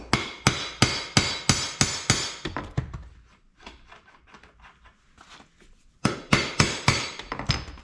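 Hard metallic hammer blows on a Yamaha YT6800 in quick, steady runs, loud and close, with a quieter stretch of lighter tapping in the middle before the heavy strikes resume.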